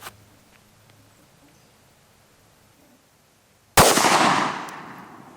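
A single loud 9mm pistol shot fired with a Federal Premium HST 124 grain +P round cracks sharply after several seconds of near silence, its blast decaying over about a second and a half.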